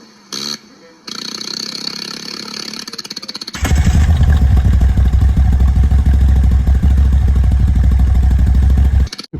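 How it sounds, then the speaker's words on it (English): A 2021 Moto Guzzi V85TT Centenario engine cranks and fires up, with brief starter clatter before a loud, steady, throbbing idle that runs on close by. "It's an old school engine, which I love. It sounds like a First World War fighter."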